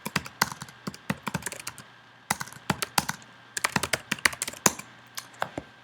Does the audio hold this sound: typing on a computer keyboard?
yes